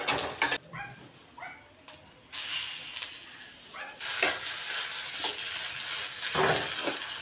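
Bitter gourd and potatoes fry in a pan, giving a steady hiss and sizzle with bursts of stirring scrapes. Faint bird chirps sound in the background early on.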